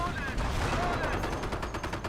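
Dense, steady battle gunfire from the World War II strategy game Company of Heroes 1, with rapid automatic shots rattling continuously over a rumbling background at a constant loud level.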